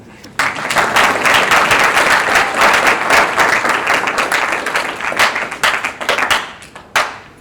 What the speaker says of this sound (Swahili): naomba mnipigie makofi.